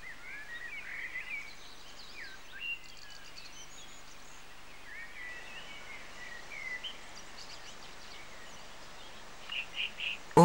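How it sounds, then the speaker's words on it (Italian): Birds call faintly along a gently climbing forest trail lined with alders and spruce, giving sparse, distant chirps and short trills over a soft, steady outdoor hiss. "Gaio e spensierato, il canto degli uccelli che ci fa da sottofondo."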